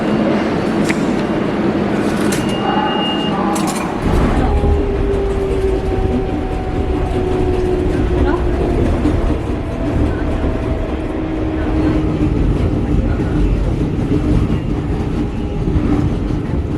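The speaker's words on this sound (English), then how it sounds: "that train over there is a set of M9s run by the LIRR" An LIRR M9 commuter train rolls past in Manhattan, its rumble swelling suddenly and continuing as a steady rushing roar with wheel squeal and faint clatter, fairly close and loud.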